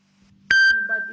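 A single close, loud electronic notification beep from a phone sounds as a sustained steady tone and slowly fades, with a low hum beforehand.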